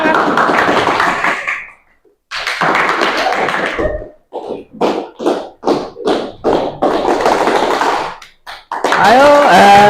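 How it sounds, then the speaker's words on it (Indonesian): A classroom of students claps hands together in a series of short, separated bursts of sharp claps between stretches of a teacher talking. "Ayo tepuk tangan."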